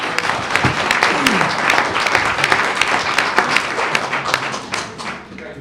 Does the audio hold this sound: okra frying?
no